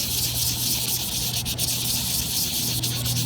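Fine 1000-grit sandpaper rubs by hand on a part of a Western Electric Model 500 desk phone, a steady close hiss of continuous scrubbing with a low hum underneath and no voices.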